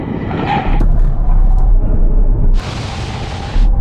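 Three SUVs, a Porsche Macan GTS, a BMW X3 M40d and a Tesla Model Y, braking hard in a full emergency stop, give a loud, continuous rumble of road and wind noise. A bright burst of tyre hiss rises near the end.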